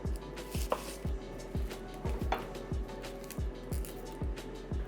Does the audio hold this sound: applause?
no